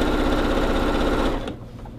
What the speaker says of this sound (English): And then we're going to go ahead and sew those together.